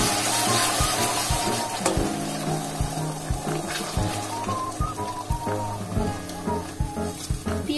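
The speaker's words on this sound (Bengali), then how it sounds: "সেই পেস্টটাই ফার্স্টে আমি এর মধ্যে দিয়ে দেব।" Onion and green chili paste hitting hot oil in a pan, giving a steady close sizzle with soft clinks and stirring bumps throughout, no talk.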